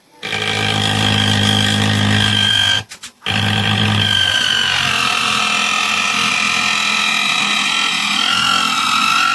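A homemade cutter built from a DC 777 motor fitted with a blade bought online runs loud and steady at close range, its whine briefly stopping before carrying on through a continuous cut.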